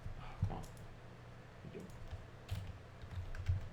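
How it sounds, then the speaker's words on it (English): Soft, irregular keystrokes on a computer keyboard during a coding session, faint clicks scattered over a low background hum, with no talk. "I'm typing so poorly today"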